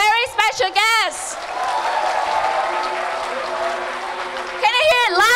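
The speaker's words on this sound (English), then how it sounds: "You're clapping as a thank you for our very special guests." Students at Vinschool applaud their special guests, producing a loud, sustained burst of crowd clapping that fills the middle of the clip, framed by an amplified voice speaking before and after.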